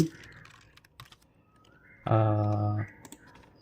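Soft, scattered keystrokes on a computer keyboard as a command is typed, broken up by a short tonal beep midway, with a speaker talking faintly underneath.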